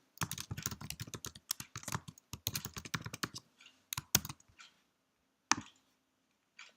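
Rapid bursts of typing on a computer keyboard as code is entered, close and crisp, slowing into scattered key presses with short pauses.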